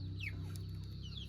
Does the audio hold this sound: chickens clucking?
yes